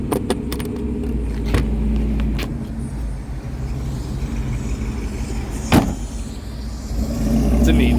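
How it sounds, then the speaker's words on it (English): Continuous road traffic roar from a nearby highway, cars swishing and rumbling past, with a voice talking close over it and occasional jingling clatter. "Sorry about the background noise, I am right next to a highway."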